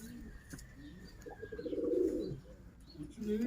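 A pigeon coos in a low, rolling burst near the middle, with faint chirps and background rustle around it.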